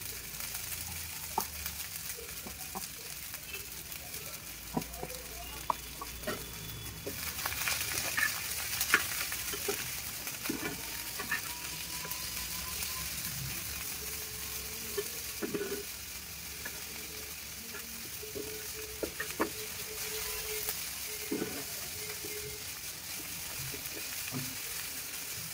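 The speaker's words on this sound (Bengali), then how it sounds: "তো সেগুলোকে এবার একটু ভালো মতো ভেজে নেব।" Chopped vegetables fry in a pan for chicken noodles, a steady crackling sizzle at close range with occasional scrapes and clicks of stirring, with no voices.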